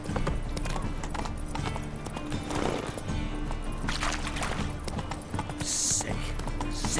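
Roach the horse galloping in The Witcher 3, a steady rapid clip-clop of hooves running throughout, with occasional snorts and a voice talking over the hoofbeats.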